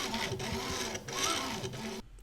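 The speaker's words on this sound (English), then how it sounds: "take a listen to the sounds that the axes make, especially the Y-axis" Up close, the axes of a worn Monoprice Select Mini 2 3D printer move in repeated strokes. The Y-axis grinds with a buzzing, rasping whine that rises and falls, then cuts off abruptly near the end.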